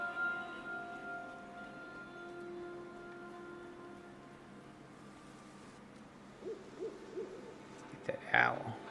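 Soft owl hoots from SEASON: A Letter to the Future, repeated through a calm string-music bed, with brighter, louder game sounds rising near the end.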